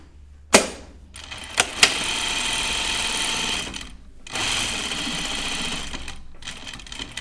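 A sewing machine runs in two long bursts, stitching the raw edges of a skirt seam together, with a few sharp clicks before it starts and a brief pause between runs.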